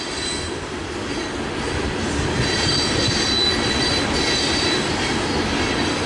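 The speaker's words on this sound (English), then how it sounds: "I love the sound of the clickety-clack and the wheels along the" A long train rolls past on the rails, its wheels squealing and rumbling in a loud, continuous steel-on-steel roar with faint clacking throughout.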